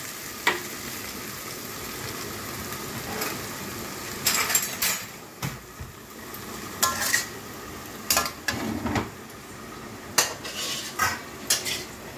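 Onion stalk and potato fritters fry in a pan with a low steady sizzle, punctuated by intermittent clinks and scrapes of utensils against the pan; no talk.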